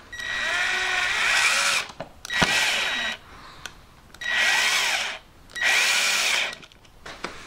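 A power drill drives a screw into a plasterboard wall fixing: three sustained high whining bursts of about a second and a half each with short pauses and a sharp click between, loud and close with no talk.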